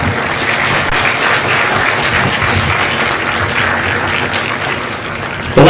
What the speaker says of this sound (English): would you join me in a round of applause for our recruiters and our combat instructors?